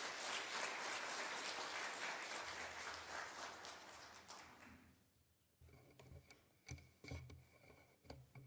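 A church congregation at a Wednesday worship service applauds to welcome a missionary. The clapping is dense and fairly loud at first, then thins and fades out after about five seconds. Scattered soft knocks and shuffling follow.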